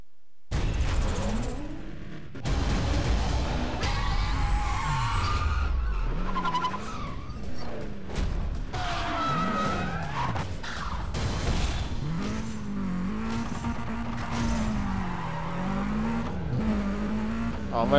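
Race cars in the video game Need for Speed Undercover screech and skid through corners, with loud sweeping tire squeals and revving engines close up over a steady engine drone.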